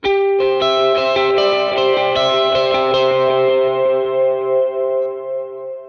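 Electric lead guitar plays a melodic second-verse riff soaked in chorus, delay and light distortion, ringing sustained notes over a steady backing, loud and close, then trailing off into a decaying echo.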